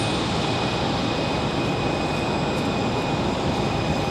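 A JetBlue jet in retro livery, flight 575, departs Raleigh-Durham for Fort Lauderdale, its engines a steady, loud broadband roar with a thin high whine held level throughout.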